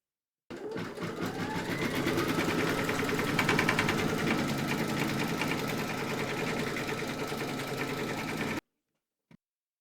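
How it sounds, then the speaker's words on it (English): Embroidery machine stitching a round on a hooped Halloween kitty design, a steady close mechanical whir of rapid needle strokes lasting about eight seconds, then stopping abruptly with a brief click after. "Pop your hoop into your machine and stitch round number 4 to secure them."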